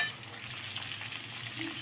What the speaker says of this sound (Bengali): রসুনটা একটু হালকা ভাজা হতেই পেঁয়াজটা দিলাম।